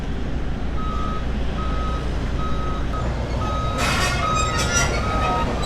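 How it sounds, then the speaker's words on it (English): A truck's reversing alarm beeps in a steady repeating rhythm at roadworks in Illetas, Mallorca, heard at moderate distance over constant engine and traffic rumble, with a brief clatter of metal or glass midway. "They're digging up the road down here to the right of the beaches."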